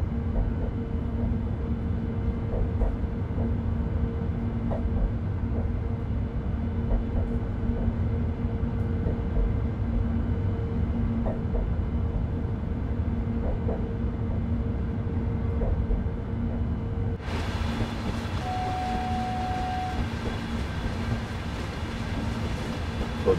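A simulated freight train hauled by a BR 193 Vectron locomotive pulling cement wagons rolls along in a Train Sim World 4 game, with a steady low rumble and evenly spaced wheel clicks. A brighter hiss joins the rumble in the last few seconds.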